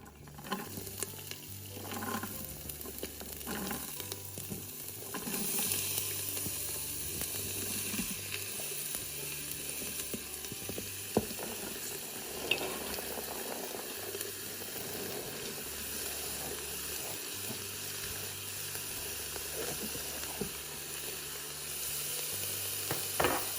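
Chopped vegetables browning in hot olive oil in a soup pot sizzle steadily, with occasional stirring scrapes and clinks over a continuous frying hiss.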